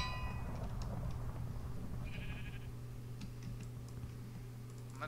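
A sheep in a video game gives a short, faint bleat amid a low, steady background hum, with soft scattered clicks and no voices.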